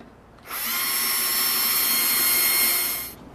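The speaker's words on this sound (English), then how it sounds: "And then we will begin to drill our pilot holes." Power drill runs at a steady high whine for about three seconds while boring pilot holes in a corner-unit cabinet door, loud and close, starting and stopping cleanly.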